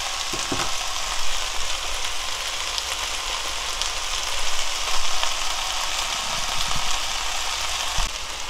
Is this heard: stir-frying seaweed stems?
yes